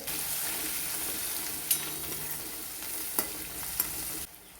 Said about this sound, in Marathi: त्याच्यामध्ये आपण एक पातळसर कांदा चिरून घेतलेला आहे तो छान परतून घ्यायचा